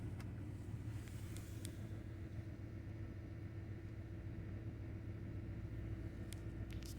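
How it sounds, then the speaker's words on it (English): Ford F150 truck engine idling steadily close by, a constant low rumble with a faint hum and occasional light clicks, no voices. "The truck is running"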